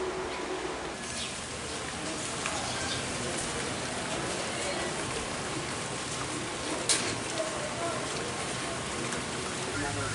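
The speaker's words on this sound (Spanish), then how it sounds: "está lloviendo." Steady rain falling under the open sky in Havana, a dense, even hiss that holds throughout, with a faint bird call now and then in the background.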